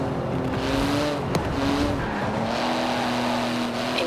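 Porsche GT2 RS racing in Forza Horizon 4, a steady high engine drone with shifting pitch as it accelerates and changes gear, tyres hissing beneath, continuous and close.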